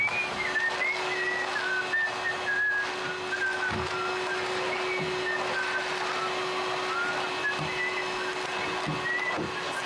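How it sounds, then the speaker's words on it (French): A person whistles a wandering tune over the steady drone of a running vacuum cleaner indoors, with faint thumps and bumps underneath. "Je siffle"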